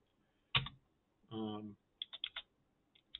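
Someone types code on a computer keyboard, with sharp close key clicks arriving in short, uneven bursts and a brief sustained sound in between, all in a quiet room.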